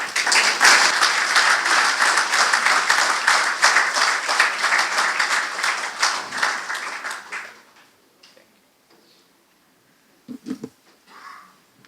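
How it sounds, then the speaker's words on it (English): A large audience at a men's health summit applauds loudly in a dense, continuous burst for about seven seconds, then the clapping tapers off into near silence with only a few faint scattered sounds. "So let's give him a round of applause again."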